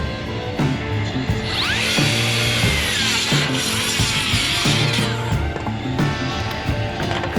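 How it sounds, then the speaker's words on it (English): A Makita XGT cordless saw makes its first cut through framing lumber on a house-building site. It gives a loud, close, continuous whine with the pitch shifting as the blade bites and runs through the wood. "First cut on the new saw."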